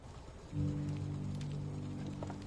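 Mithril-powered airship engines run in Final Fantasy XVI with a steady low mechanical drone that swells in after a brief quiet start, holding a constant hum under a faint hiss.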